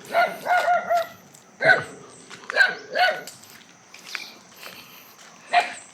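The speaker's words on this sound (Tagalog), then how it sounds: "Mga aso dito guys." Dogs at a resthouse bark in short, sharp bursts, some clustered in quick runs and others single, near and moderately loud, with faint talk and footsteps between.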